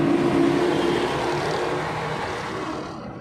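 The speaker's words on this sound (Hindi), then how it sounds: "ये सामने डंपर जा रहा है, डंपर का ओवरटेक कर रहे हैं लेफ्ट साइड से" Car overtaking a dumper truck on the left along a highway, a continuous roaring engine and road rumble that slowly fades over a few seconds, fairly loud and close with no talk.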